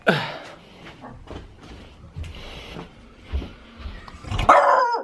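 A dog barks a few times in irregular bursts, with a growly edge, ending in a louder sharp bark near the end.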